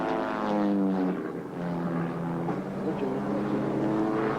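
A Pitts Special aerobatic plane drones steadily overhead, its propeller and engine holding a continuous harmonic hum that shifts in pitch as it manoeuvres, loud and sustained with no voices.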